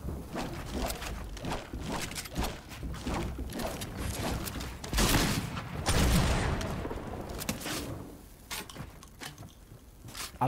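Shotgun fire from Fortnite, a rapid series of loud blasts and clatter with footsteps and building noise mixed in, the volume staying steady and then easing near the end.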